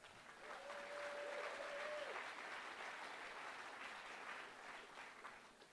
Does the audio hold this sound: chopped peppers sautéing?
no